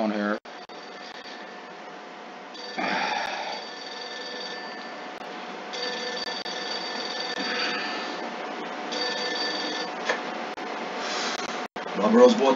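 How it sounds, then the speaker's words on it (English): In the Mafia II video game, a telephone rings in a few repeated bursts with gaps between them, moderately loud against a quiet in-game background before the call is picked up. "Let me answer this phone here."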